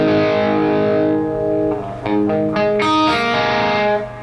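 An electric guitar runs through an overdriven plexi-style Marshall amp simulation with the volume rolled back, playing loud sustained chords with a crunchy, slightly gritty edge and a few sharper strummed accents.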